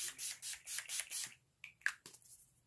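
Setting spray misted onto a face during makeup application, a run of about six quick hissing pumps in a steady rhythm, then a pause and a few fainter handling clicks and taps, close to the microphone and without speech.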